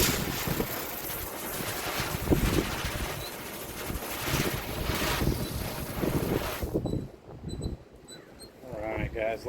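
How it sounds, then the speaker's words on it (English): Strong wind buffets the microphone in loud, gusty roars for several seconds, then drops away sharply, leaving quieter rustling near the end. "Whoa, it is windy."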